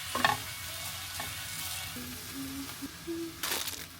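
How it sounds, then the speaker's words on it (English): A prawn stir fry sizzles steadily in a hot frying pan, with scraping stirs and clatters of a utensil against the pan; no voices. "put everything in a frying pan and make the stir fry"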